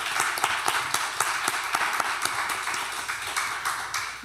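Church young-adult group audience clapping together after a panel talk, a dense steady patter of hand claps at moderate distance, lasting throughout.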